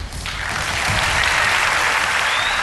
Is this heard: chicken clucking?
no